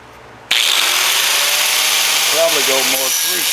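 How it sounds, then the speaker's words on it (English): A power tool cuts roughly half an inch off the end of a transmission mount, starting abruptly and running as a loud, steady broadband whine, with a voice speaking over it toward the end. "I need to cut about a ½ an inch off the end here."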